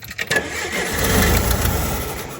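An old flathead Hyster forklift engine cranks with a few uneven bursts, then catches into a loud, rough, steady running rumble nearby.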